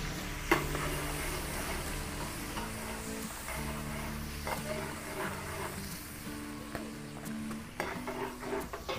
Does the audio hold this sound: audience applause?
no